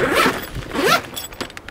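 A bag zipper is pulled shut in two quick, close rasping strokes, followed by a few faint clicks and rustles of the fabric.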